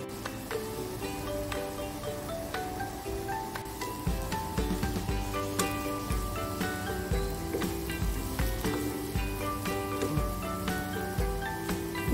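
Jengkol beans with anchovies stir-fry in a pan, crackling and sizzling steadily with scattered pops and spatters, plus occasional clinks of a utensil against the pan.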